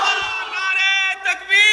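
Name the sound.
crowd shouting Allahu Akbar in reply to Nara-e-Takbir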